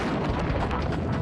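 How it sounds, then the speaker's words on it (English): Blast from a fuel-air explosive, a dense, sustained roar of pressure and rumble that fills the moment with no break, loud and close. "the crushing effect of the blast wave"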